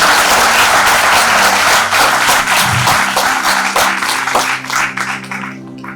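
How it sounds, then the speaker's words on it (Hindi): Audience applause at a university gathering, loud sustained clapping from a crowd that gradually thins and fades toward the end. "तो एक बार जोर से तालियां बजा दो इनके लिए।"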